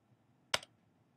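A single crisp keystroke clicks once on a computer keyboard in an otherwise quiet room.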